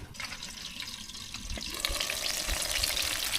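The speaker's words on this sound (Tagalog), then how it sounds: "Ayan, konting prito na lang po ito." Sliced eggplant frying in an oiled pan for a breakfast of fried talong, a continuous close sizzle and crackle that swells slightly toward the end, with no voices.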